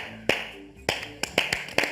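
Scattered claps from a comedy show audience, a handful of sharp, separate hits over two seconds rather than sustained applause, fairly close and with no talk.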